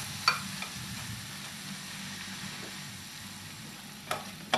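Breadcrumbs crisp in a pan with garlic mushrooms, giving a faint, steady low sizzle with a couple of soft utensil taps near the start and end.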